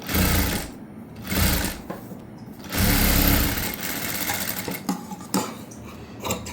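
A sewing machine runs in close, loud bursts while stitching the lining of a prince-cut blouse, its motor whirring in several stop-start runs.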